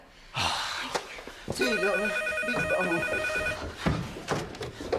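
A telephone rings in a home with a steady, repeating electronic trill lasting about two seconds, set among bumps, a gasp and faint household commotion.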